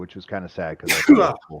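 A single sharp sneeze bursts out near the middle, close and loud, amid a man's casual conversation that continues around it.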